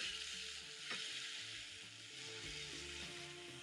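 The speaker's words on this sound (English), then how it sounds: "Back to my pan, I'm going to add in my tomatoes at this point." Tomatoes frying in a pan for an omelette, a continuous bright sizzle with soft stirring and scraping beneath, steady and close, no voices.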